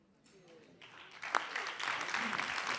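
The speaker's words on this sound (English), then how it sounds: "Please give a round of applause for Ernie Isley, Bill Banfield." Audience applause for Ernie Isley and Bill Banfield after a live conversation event, starting quietly and swelling into steady sustained clapping from the room.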